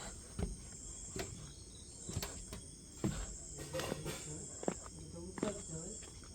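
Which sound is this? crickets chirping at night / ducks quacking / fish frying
crickets chirping at night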